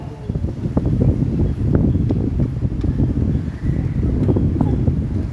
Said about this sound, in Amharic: ነፋስ